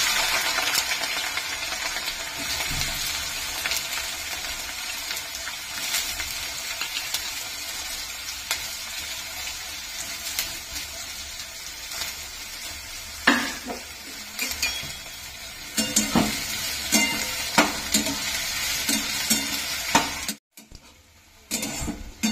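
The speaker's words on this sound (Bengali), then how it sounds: "পেঁয়াজগুলোকে ভেজে নেবো।" Onions frying and being stirred for a Bengali mutton curry: a steady broadband sizzle runs throughout, with scraping stir strokes and utensil clinks growing more frequent toward the end before a brief pause.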